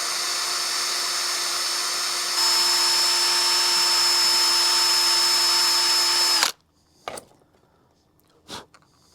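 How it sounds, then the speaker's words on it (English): A power drill whines steadily at high speed while enlarging a hole for a peg, its pitch rising a step partway through, then it cuts off abruptly, followed by a few faint knocks and handling sounds. "I'll just use the friction of the drill"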